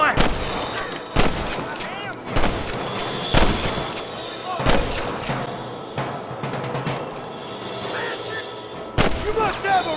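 Gunfire rings out during a shootout in the Red Dead Redemption video game, sharp repeated shots and booms spaced a second or so apart with ringing echoes, while characters shout over the fighting.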